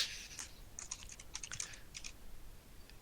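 Keys on a computer keyboard are typed in quick irregular bursts of clicks, close and fairly quiet, with a brief pause before a last tap.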